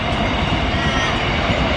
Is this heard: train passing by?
yes